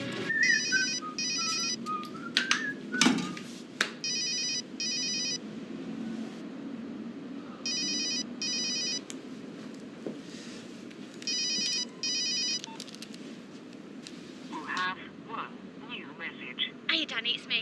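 A mobile phone ringtone plays in repeated short patterned bursts, moderately loud, over a quiet indoor background, with someone speaking briefly at times.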